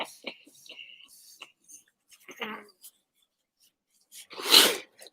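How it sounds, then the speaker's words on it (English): A single sharp, loud sneeze bursts out near the end, preceded by quiet sniffing, rustling and soft murmured breaths from someone indoors. "I'm going to sneeze"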